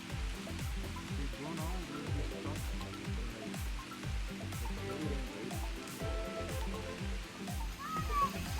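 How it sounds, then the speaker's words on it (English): Steady heavy rain in Madikeri, Coorg, drums on a surface throughout, a dense wash of water noise with a few brief higher sounds near the end. "It is heavy rain."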